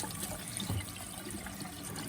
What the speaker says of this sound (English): This is just cool water, and I'm just rinsing it because I don't want to lose any butter